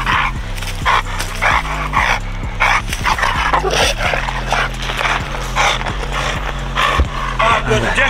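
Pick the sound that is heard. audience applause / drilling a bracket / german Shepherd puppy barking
german Shepherd puppy barking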